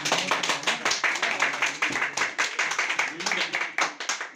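A crowd applauds at a press club election result, with dense rapid clapping arriving in repeated rhythmic surges, close and loud, alongside some voices.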